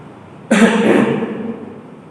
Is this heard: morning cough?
yes